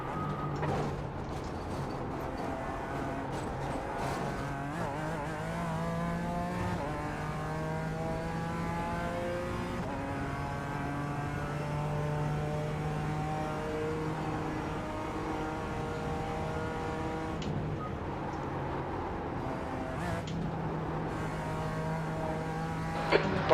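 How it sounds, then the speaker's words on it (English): Race cars lapping the Nürburgring Nordschleife in the iRacing sim during an endurance race, several engines droning and shifting through rising and falling pitch, one faster car closing in, loud and continuous with no talk. "There's a faster car approaching."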